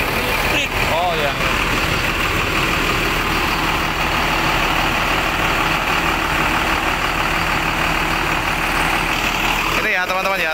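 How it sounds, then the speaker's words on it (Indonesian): A diesel bus engine idles loudly up close in its engine compartment, a constant low rumble and clatter that runs throughout, ending with a brief rattle. "Inilah ruang mesinnya dan mesinnya sangat garing sekali, suaranya pun sangat nyaring."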